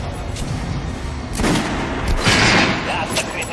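Gunfire rattles through Metro Last Light Redux as shots hit armored targets, sounding as dense, loud, sustained bursts and cracks against constant battle noise with no clear pauses.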